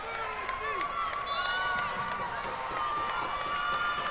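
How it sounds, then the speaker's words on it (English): Home crowd at a high school boys basketball game cheering in a gym after the home team takes the lead, a sustained loud roar with sneaker squeaks and an announcer talking over it. "Taunton's crowd is hyped up."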